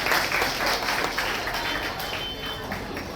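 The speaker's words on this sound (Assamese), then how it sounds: "এটা হাত চাপৰি দিয়ক মাতৃৰ কাৰণে" Audience at a school parents' meeting applauding a student's mother, a steady patter of many hands clapping in a hall that slowly eases off, with faint talk mixed in.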